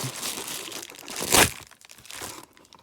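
A thin-ground knife blade slices through cardboard packaging, a short dry crinkling scrape that swells into one louder tearing cut near the middle, then fades into faint rustling.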